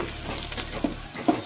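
Onions frying in a pan for egg biryani, stirred with a spoon: steady sizzling with a couple of soft scraping clinks near the end, close and clear with no talk.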